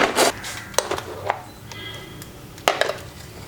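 Green chilli and neem leaves chopped in a kitchen chopper, a few sharp separate knocks and clacks at irregular intervals over a low steady background, close by, no talking.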